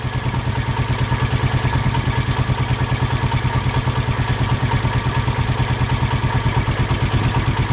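A Honda 350 motorcycle engine idles steadily during carburetor tuning, a close, even mid-pitched chugging pulse that holds without revving.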